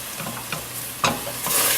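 Plain breadcrumbs being stirred into a pecan-stuffed mushroom filling in a pan, giving a few soft scraping strokes over a faint sizzle, close and moderately quiet.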